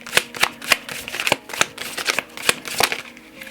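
Tarot-style cards being shuffled and drawn for a card reading, a rapid series of crisp riffling snaps and slides close up, with no talk.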